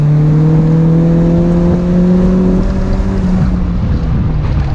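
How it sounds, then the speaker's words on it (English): A close stock Mazda Miata engine hums steadily, its pitch shifting as it pulls under throttle after braking, with wind rushing around the microphone and no voices. "And you'll hear when I get back on the gas."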